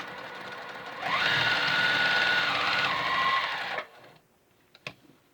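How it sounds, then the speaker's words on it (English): A JUKI TL2010Q sewing machine runs in one steady, continuous burst of close mechanical whirring for a few seconds, then stops, followed by a couple of quiet clicks. "And we can do some sewing."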